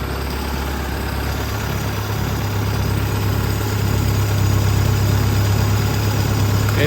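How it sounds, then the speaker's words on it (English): A boat engine idles steadily at very low speed with a low, even rumble and a deep droning hum while being winterized with fogging oil. It grows slightly louder partway through, with no voices. "Now while the engine is still running"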